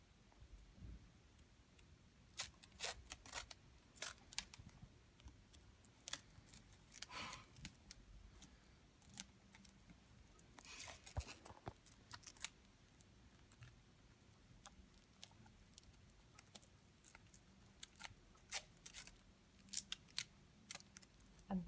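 Medical tape is cut and applied to secure a nasogastric tube, giving quiet scattered snips, crinkles and taps spread irregularly across a soft background with no talking.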